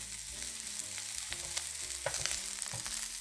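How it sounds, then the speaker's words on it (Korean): Bacon and green bell pepper stir-frying in a pan, a continuous close sizzle with scattered crackles and the scrape of stirring, no voices. "베이컨이 어느 정도 알맞게 익었으면 이제 피망을 넣어서 마지막으로 살짝 볶아줄게요."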